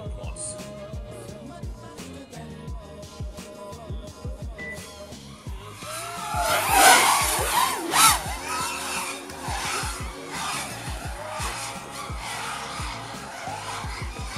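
FPV racing drones tear past at high speed and high throttle with audible prop wash, a loud, rising and falling motor whine that swells as they pass close, over a busy outdoor race background.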